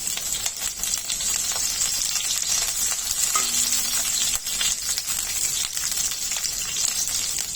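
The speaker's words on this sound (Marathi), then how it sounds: "तेल गरम झाल्यावर त्यामध्ये दहा ते बारा कडीपत्त्याची पानं घालायची आहेत" Curry leaves crackle and sizzle in a spoonful of hot oil in a kadhai, a steady close frying hiss with sharper pops, no voices.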